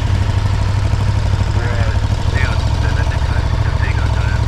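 A 2021 KTM Super Duke R idles close by with a steady, throbbing low rumble that holds even throughout, while a rider talks over it.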